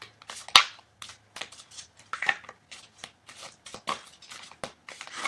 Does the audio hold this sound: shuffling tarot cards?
yes